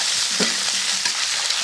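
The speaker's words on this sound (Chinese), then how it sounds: "再下入这个红色的泡椒。" Red pickled chilies added to chicken pieces in a wok make a brief, close sizzle with soft stirring scrapes and one sharp clack of the spatula at the end, no talking.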